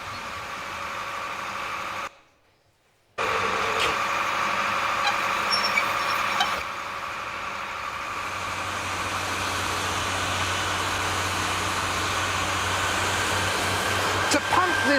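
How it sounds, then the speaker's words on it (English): A huge, noisy engine pumps a jet of water 70 feet into the air, producing a steady, loud broadband roar that drops out briefly for about a second before resuming and continuing unbroken. "To pump this jet of water 70 feet up in the air here, it takes that huge, big, noisy engine down there."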